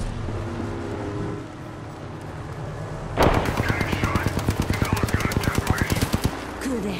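Gunfire in Apex Legends, with a sudden long burst of rapid, evenly spaced automatic shots ringing out loudly after a quieter stretch of background game sound.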